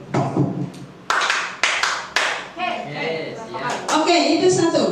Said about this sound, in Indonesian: Kalau nanti saya bilang aba-abanya satu, Bapak dan Ibu semuanya itu akan melakukan tepuk seperti ini ya